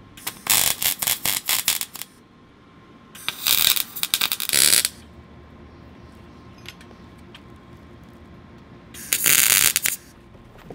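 Tack welding shock mounts onto a 750cc cross kart chassis: three short bursts of crackling, buzzing welding sound, loud and close, separated by quiet pauses.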